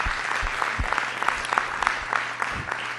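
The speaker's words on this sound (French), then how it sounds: "Je pense qu'on peut donner une bonne main d'applaudissement au" An audience in a church claps, a moderate, steady round of applause with individual claps audible and some faint voices mixed in.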